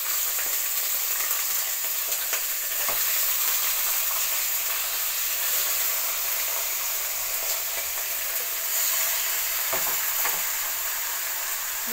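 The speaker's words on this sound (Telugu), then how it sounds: "కొంచెం నీరు ఇంకిపోయే వరకు ఫ్రై చేయాలి" Chicken curry fries in a pan, a continuous close hiss and sizzle with occasional crackles and stirring knocks that holds fairly even for about twelve seconds, no talking.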